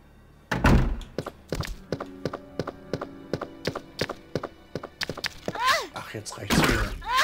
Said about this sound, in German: Mal ein bisschen mit der Armbrust schießen.